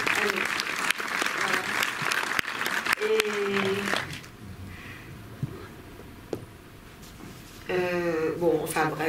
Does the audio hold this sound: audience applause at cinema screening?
yes